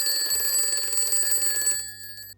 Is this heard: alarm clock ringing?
yes